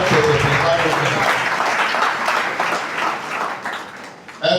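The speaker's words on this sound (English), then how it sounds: "Clap for yourself for coming to Simplified movement." A crowd at a Simplified Movement political rally applauds in a loud, dense burst that gradually thins and fades, with a sharp clap or knock at the very end.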